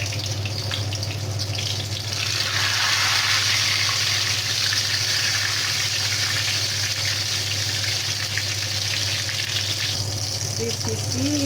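Homemade vegetable spring rolls fry in hot oil with a steady, loud, hissing sizzle that runs unbroken throughout, and a few light bubbling pops near the end.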